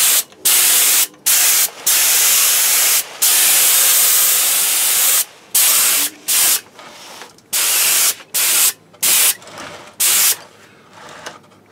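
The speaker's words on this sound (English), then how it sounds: "Got my HVLP gun out." HVLP spray gun laying a gloss coat on a prop on a rotating platform, loud close hissing bursts of varying length separated by brief silent pauses.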